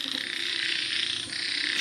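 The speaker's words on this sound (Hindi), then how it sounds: "हर जगह मेंढक थे।" Frogs croaking, a dense chorus of many overlapping rasping calls forming a steady pulsing drone that runs without pause, moderately loud and with no voices.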